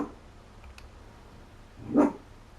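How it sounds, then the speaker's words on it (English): A dog named Luna barking from downstairs, a single muffled bark at a distance after a quiet stretch, with no talk. "I can hear my little Luna bear barking downstairs"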